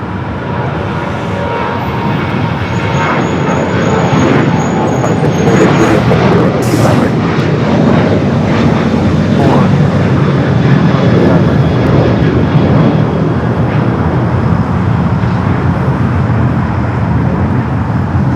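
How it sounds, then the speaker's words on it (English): A British Airways Boeing 777 taxis toward the Tom Bradley terminal at LAX with a loud, sustained engine whine and rumble, and faint airport traffic and a few brief tonal sounds above it. "British Airways 777 slowly but surely making its way over there to Tom Bradley."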